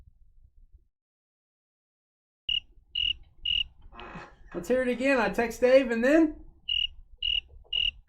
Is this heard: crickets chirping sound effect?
yes